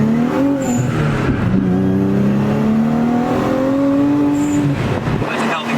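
A motor-swapped Nissan 370Z accelerates hard in third gear, its engine note rising steadily as a loud, close drone from inside the car before the throttle lifts near the end.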